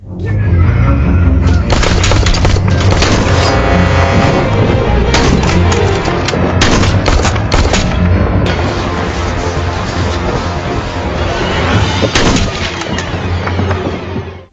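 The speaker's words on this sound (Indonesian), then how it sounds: "Dan baku tembak pun tak terhindarkan." A film gunfight with loud, dense, continuous bursts of gunfire and heavy booms layered over a driving soundtrack, with no break across the whole stretch.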